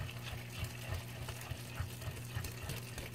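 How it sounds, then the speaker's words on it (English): A hand whisk beats a pumpkin pie filling with light brown sugar in a bowl, giving soft, steady rhythmic clicks and sloshing strokes at close range with no voices. "And just whisk it all together until it's combined."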